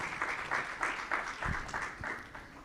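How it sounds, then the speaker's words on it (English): An audience applauds steadily, a moderate wash of clapping with no other sound over it. "Please give us a big round of applause to our esteemed panelists."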